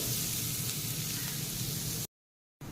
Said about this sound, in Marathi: कांदा थोडासा गुलाबी रंगाचा होईपर्यंत आपण हे परतून घ्यायचं आहे